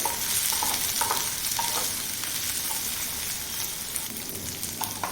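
Okra roasts in a pan over medium heat, with a constant bright sizzle and repeated scraping and clacking as the pieces are stirred. There is no talking.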